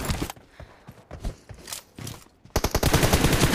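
Gunfire in PUBG Mobile, with scattered sharp single shots at first, then a fast, dense burst of automatic fire that runs to the end.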